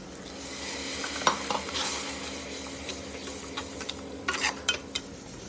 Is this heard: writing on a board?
no